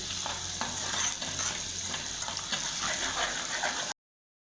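Ginger and garlic fry in oil while being stirred steadily, a dense close sizzle with soft scraping strokes throughout, cooking a green popti bhaji, then cutting off abruptly near the end.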